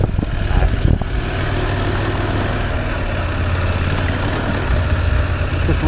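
A KTM 790 Adventure R motorcycle engine drones steadily while riding, a constant loud low-pitched hum with wind rush and no talking.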